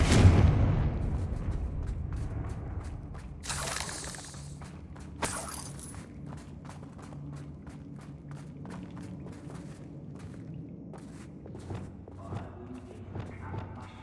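Two sharp blasts from the Confringo spell in Hogwarts Legacy boom out in a quiet game scene, with faint footsteps and soft knocks scattered around them.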